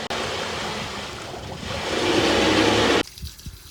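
Water gushes from a tap through a hose at a canal-side water point for a narrowboat, a loud steady hiss that swells slightly, then cuts off abruptly.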